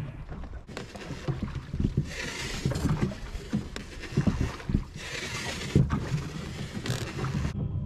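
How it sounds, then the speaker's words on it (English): Oars work a solo rowing boat across a flat calm Scottish sea loch in the Sound of Mull, with regular strokes splashing and dipping about once a second over light wind noise, close and fairly quiet. "Been rowing for about 2 hours now and making good progress."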